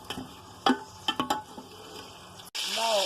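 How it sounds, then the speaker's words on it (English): Curry paste, a cinnamon stick and cardamoms fry in hot oil for a lamb and potato curry, with sharp sputters and pan clatter, then a steady close sizzle. "Let it fry for a minute or so."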